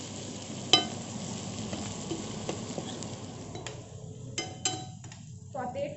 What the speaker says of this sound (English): Saute it for some time and then I'll add the tomatoes.